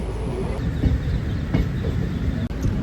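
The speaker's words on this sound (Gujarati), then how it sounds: "આ છે મોજ ટ્રેનમાં સફર કરવાની" A low, steady rumble of a moving train carriage with faint rattling, continuous and fairly loud.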